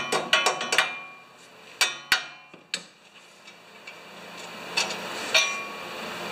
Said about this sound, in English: I put the nut back on there so I can just tap these